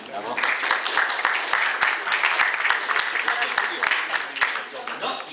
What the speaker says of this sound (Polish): Prosimy o brawa.